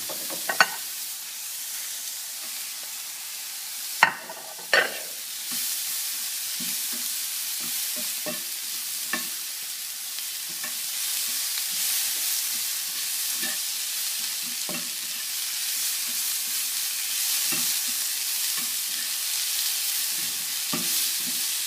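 Baby spinach frying in a pan while being stirred, a steady soft sizzle with intermittent scraping and clinks of the utensil against the pan, close and alone without talk, during preparation of a quick vegetarian omelette.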